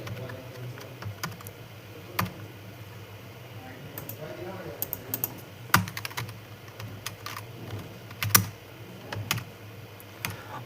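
Someone types C++ code on a computer keyboard, with quiet, irregular key clicks and a few sharper taps over low background hum.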